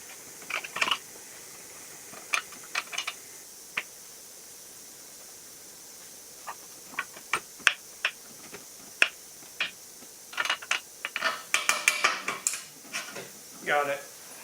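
Motorcycle shock absorber being bolted to the rear linkage on an RZ350/TZR250 hybrid in a workshop: scattered sharp metallic clicks, taps and clinks of tools and fasteners, irregular and close, with short pauses between.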